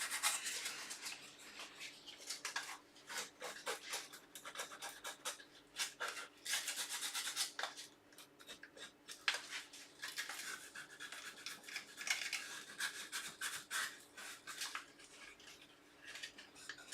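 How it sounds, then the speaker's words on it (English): Sandpaper rubs by hand over a wooden sandpaper caddy in quick, uneven scratchy strokes, faint and close with short pauses between bursts, and no one speaks. "Just get a bit of sandpaper to clean it up."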